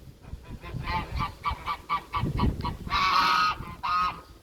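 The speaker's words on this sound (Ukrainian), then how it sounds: "Це молодий гусак так верещить" A young gander screeches and honks repeatedly nearby, a rapid series of short cries followed by two longer, louder shrieks.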